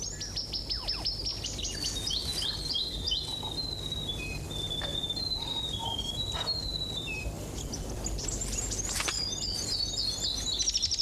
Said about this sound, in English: The South Island robin, for one.